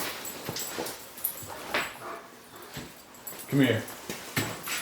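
Puppies whimpering and yipping softly in short bursts during the uncrating and setup of a new tool, with someone talking gently to them over the small cries.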